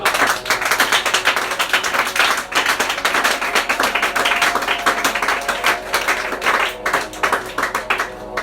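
A congregation claps and applauds together during a church service, a dense, sustained rattle of many hands with no speech over it.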